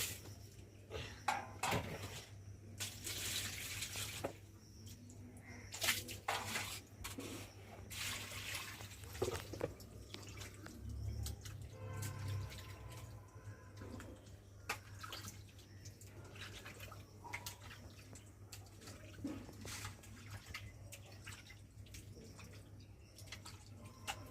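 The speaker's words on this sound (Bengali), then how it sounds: "চলো মাছগুলো ধুয়ে নিই।" Rohu fish being washed by hand in a vessel of water: steady close splashing and sloshing with occasional clinks of a metal pot, continuing without talk.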